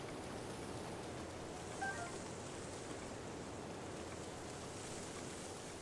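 Steady, soft rainfall in a Zelda video game set in Hyrule hisses evenly throughout, a constant wash of falling rain with no other distinct sounds.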